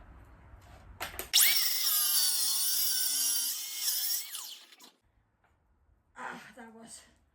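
A power tool sands a wooden radiator cover for about three and a half seconds, loud, steady and close, with a slight shift in pitch partway through. Quiet handling noise comes before it and a voice speaks briefly afterward.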